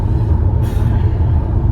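Road traffic roars in through open car windows on a warm, sunny drive toward Bath: a steady, loud low rumble of engine and tyre noise with a brief hiss partway through, and no talking.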